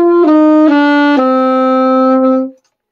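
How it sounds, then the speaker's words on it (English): Close, loud saxophone stepping down through a few notes of a descending natural minor scale, settling on a long held low tone before falling silent. "it reverts to the natural minor or the pure minor going down"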